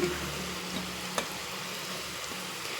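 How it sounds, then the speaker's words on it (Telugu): Chegodi dough rings, made from curd and moong dal, go into hot oil and fry with a steady soft hiss and a single light clink partway through, close and unbroken. "నూనె బాగా కాగింది చెగోడీలు కొంచెం కొంచెం వేసేసుకుందాం"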